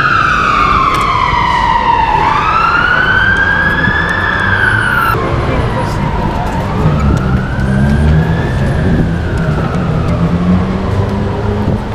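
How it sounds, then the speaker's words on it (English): Two fire engines pass on a city street with loud wailing sirens sweeping up and down, the first close and dominant, then a second rising behind it over traffic rumble. "2 fire engines."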